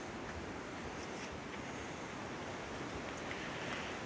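Ocean waves wash near the beach at Anastasia State Park, a faint and continuous hiss of surf with a soft, wind-like rush and no distinct individual breakers.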